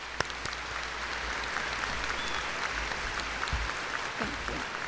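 Applause from a large crowd at the White Bear Lake Area High School graduation ceremony, a continuous even roar of many hands clapping, with a few sharper nearby claps and faint voices mixed in.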